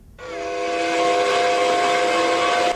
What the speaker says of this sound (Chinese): 蒸汽火车的汽笛声为台北铁道文化节揭开序幕